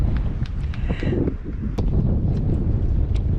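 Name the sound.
wind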